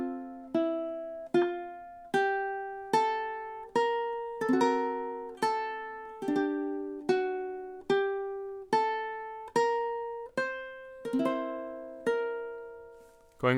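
A ukulele plucks the opening measures of a song, about sixteen clear, evenly spaced notes and chords ringing out one after another, close and alone with no voice.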